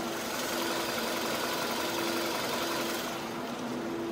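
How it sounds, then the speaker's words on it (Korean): Quiet, even hum of a Hyundai i30 1.6 engine idling with the bonnet open, a faint steady mechanical whir and light ticking with no revving or voices. "엔진 소음 먼저 들려드리면은"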